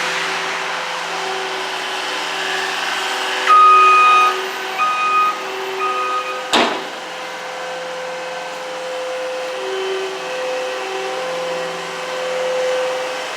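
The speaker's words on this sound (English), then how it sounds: "That's called a skid steer." Skid steer loader working in falling snow, a steady engine drone with a few short reversing beeps and one sharp metallic knock, nearby and fairly loud, no voices.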